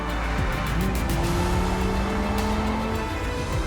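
A Lamborghini Huracán Spyder makes a launch-control start: a loud engine revs and pulls hard with rising, sweeping tones as it accelerates away close by, with no talking.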